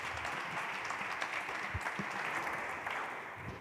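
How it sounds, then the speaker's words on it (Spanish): Audience applause for the Amazon speakers at a training and employment event on AI in Málaga, a steady wash of clapping across the whole stretch, moderately loud and diffuse, without talk over it. "Un aplauso para ellos, por favor."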